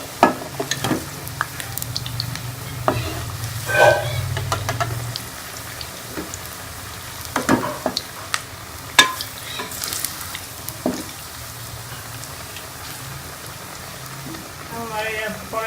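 Pakoras frying in a pan while being turned over, a soft bubbling sizzle broken by scraping and clinking utensil sounds, with a voice speaking in places.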